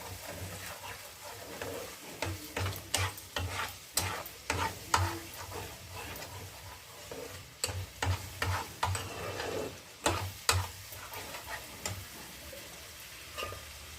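Spices with Kashmiri red chili powder and a splash of water sizzle in a pan while a spoon stirs and scrapes in repeated bursts, fairly close and steady, with no talking.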